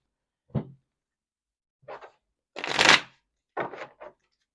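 Tarot cards being shuffled for a reading: four separate bursts of riffling and flicking, with the third longest and loudest, all up close with quiet gaps between and no talk.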